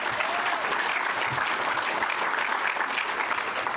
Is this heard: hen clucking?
no